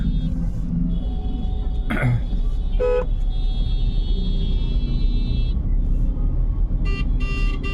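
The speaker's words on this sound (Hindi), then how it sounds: "चल पड़ा ट्रैफिक।" Road traffic near Kanpur Central station rumbles past at night while car horns toot in short repeated bursts, some close and loud, others overlapping in a steady honking din.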